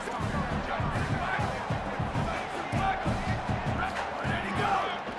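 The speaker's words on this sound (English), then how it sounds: "Round of applause here." A crowd roars and cheers steadily in an American college football video game, a dense, continuous stadium noise under overlapping voices.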